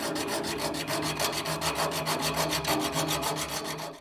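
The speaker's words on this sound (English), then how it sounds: "Using your hacksaw, cut a line through the olive, but be careful not to nick the copper pipe." Hacksaw cutting through a brass olive on copper pipe, a fast rhythmic rasp of short, even back-and-forth strokes, close and loud, lasting about four seconds with no talk.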